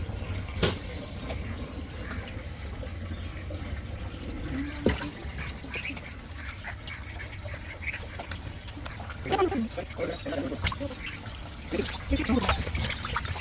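Water trickles and runs steadily while farm-raised catfish, about four months old, are cleaned and gutted, with duck quacks and other background noise mixed in throughout.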